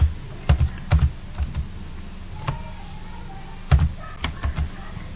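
A computer keyboard is typed on in quick, light clicks and clusters with brief gaps, close and fairly quiet, with no one talking over it.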